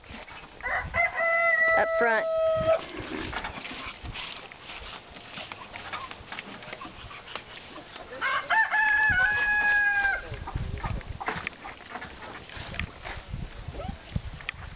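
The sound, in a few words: rooster crowing and clucking during chase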